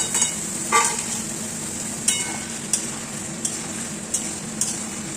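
Chopped onions frying in a pan with whole spices give a steady, close sizzle, with a few sharp scrapes and clinks of stirring scattered through it.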